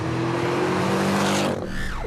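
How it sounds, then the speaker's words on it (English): A Porsche 718 Cayman's 2.5-litre four-cylinder engine growls loudly and steadily under hard acceleration, then drops off sharply as a whine sweeps downward in pitch near the end. "I quite like the little growl that you get when you put the hammer down."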